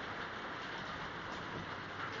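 Heavy rain during Typhoon Mario, a steady dense hiss of rainfall with no pause, alone and moderately loud.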